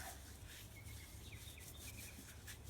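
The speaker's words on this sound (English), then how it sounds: "just going to kind of rub that sand on it a little bit" Sand rubbed by hand against an old glass bottle, a faint continuous gritty scrubbing close by, with a few high chirps in the background.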